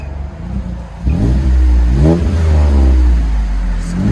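A 2022 Chevy Colorado's 3.6L V6 with a Magnaflow exhaust revs up from idle to a loud, deep, rising engine note, climbing in a couple of swells, close by with no talking.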